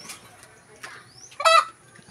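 An older hen on a farm gives a few short, close clucks with brief gaps between them, then one louder, sharper call near the end.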